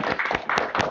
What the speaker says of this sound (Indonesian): Silakan beri tepuk tangan untuk kelompok 1.